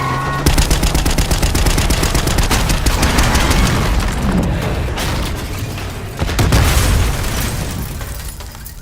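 Sustained gunfire in a 1960s Cold War film scene: dense, rapid bursts like machine guns, loud and close, with a heavier volley returning near the end and no talk.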